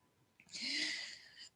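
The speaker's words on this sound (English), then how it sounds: "I'm gonna sneeze" A single sneeze from a person in a Sunday School senior class, one short, sharp, fairly close burst of breathy noise.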